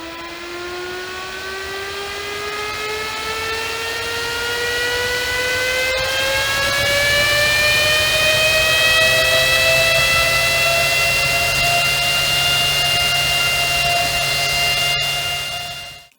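A powerful high-airflow cooling fan on an electronic load spins up, its loud whine rising steadily in pitch before holding at a roaring, jet-engine-like top speed, then cutting off abruptly.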